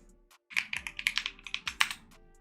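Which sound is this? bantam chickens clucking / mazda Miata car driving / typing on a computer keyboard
typing on a computer keyboard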